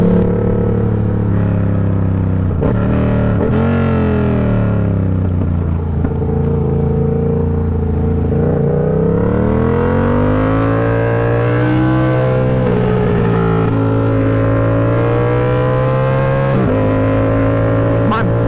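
A motorcycle ridden along a twisty back road gives a loud, close engine drone whose pitch rises and falls with throttle and gear changes, carrying steadily throughout.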